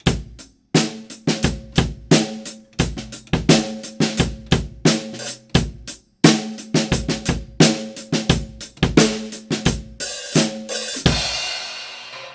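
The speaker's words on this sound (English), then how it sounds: "So you can hear a little drum groove sound a bit like this." A beginner-style drum kit groove with sharp kick and snare hits and steady cymbal or hi-hat strokes in a repeating rhythm, loud and close, ending in a washy cymbal crash.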